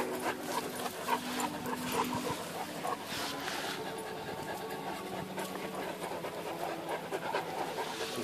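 A dog pants steadily and quickly nearby, with faint background noise and no talking.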